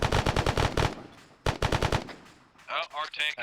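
Bursts of automatic gunfire in the Arma Antistasi military game, a rapid rattling volley followed by a second burst after a short pause, then a voice speaks over the fading echoes.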